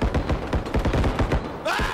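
Rapid bursts of automatic gunfire in a realistic shooter game, a dense run of sharp repeated shots, loud and close, ending as a voice briefly cuts in.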